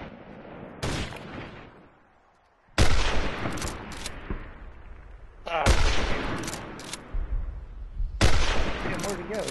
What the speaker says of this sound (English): One's shooting from the right side somewhere.